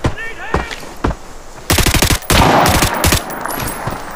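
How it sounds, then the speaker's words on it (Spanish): Bursts of AR-30 rifle gunfire in the tactical shooter Arena Breakout, with a few isolated shots followed by two loud rapid-fire volleys of close, sharp reports. "Disparó. AR-30,"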